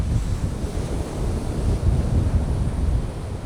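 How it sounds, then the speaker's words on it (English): Rough sea surf rolls and crashes steadily at Taiyuan fishing harbor on Orchid Island, Taitung, a dense, constant low roar of waves mixed with buffeting wind across the microphone, with no voices. "And the sea today is very rough."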